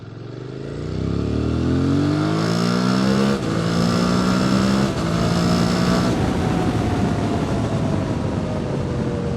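QJ SVT 650X motorcycle engine revving hard during a ride, loud and close, rising through gears with brief shift dips before settling into a steady high drone with wind.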